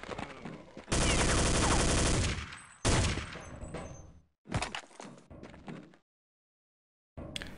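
Counter-Strike 1.6 match gunfire, a long sustained burst of loud rapid shots followed by shorter bursts and single cracks, then a stretch of silence before more fire at the end.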